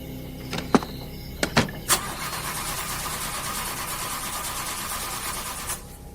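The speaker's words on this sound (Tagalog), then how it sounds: "Sinubukan nilang paganahin ulit, pero hindi na talaga ito umandar." Engine cranked repeatedly while trying to start, with a few sharp clunks and a stuttering catch before a steady whirring churn that runs several seconds, then cuts off.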